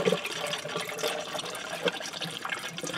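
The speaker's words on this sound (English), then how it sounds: "we'll just run water." Water runs and splashes steadily into a Yanmar radiator, a continuous close gurgling pour with no voices.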